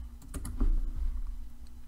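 Quiet, close typing on a computer keyboard, a short burst of several quick key clicks followed by a few scattered taps over a faint background hum.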